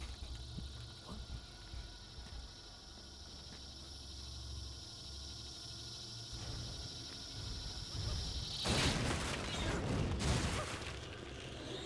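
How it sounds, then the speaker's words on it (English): In the video game Metal Gear Solid 4, a robot emits cicada-like buzzing, a steady high insect drone that stops abruptly, followed by bursts of noisy in-game rumble and clatter at moderate level. "Did you hear the cicadas there, by the way?"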